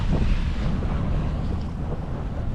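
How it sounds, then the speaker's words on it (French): A sailboat beating close-hauled under sail, with steady loud wind buffeting the microphone and a dense low rush of waves against the hull throughout, no voices. "Là on est sous voile, on est au pré serré"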